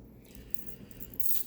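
A bunch of truck and house keys from a key collection jingles briefly, a short metallic clink that rises into a brighter rattle at the end, close by and with no talking.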